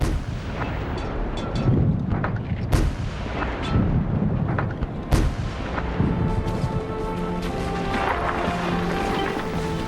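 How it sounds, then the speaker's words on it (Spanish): World War I artillery fire, heavy cannon shots booming one after another at irregular intervals over a dense rumbling battle din. "Un cañonazo directo tras otro."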